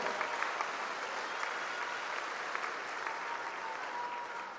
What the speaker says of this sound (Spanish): hay que darles un aplauso